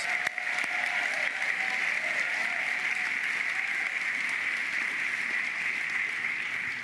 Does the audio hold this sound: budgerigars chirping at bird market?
no